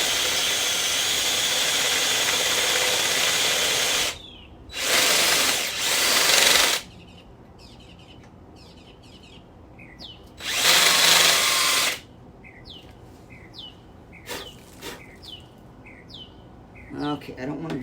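A small spot weld cutter drills out spot welds on a Chevrolet Bel Air body in a garage, giving two loud, steady whining bursts of about two seconds each, separated by quieter gaps with birds chirping outside.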